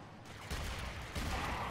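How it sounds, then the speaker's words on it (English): Sustained gunfire from a Supra in the video game Warframe comes as a dense, rapid fusillade. The noisy bursts swell in intensity and blend into a continuous wash of shots at moderate distance. "What is he even firing? It sounds like a Supra."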